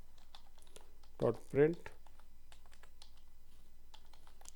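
Soft, scattered keystrokes on a computer keyboard while Arduino code is entered, faint and close, with someone briefly speaking partway through.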